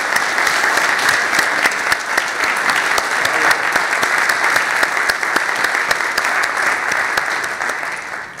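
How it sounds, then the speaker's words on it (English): A large church congregation at an Easter Sunday service applauds steadily for the musicians, a dense wash of clapping that holds at full strength for several seconds without letting up. "can we give a round of applause to our instrumentalists and musicians"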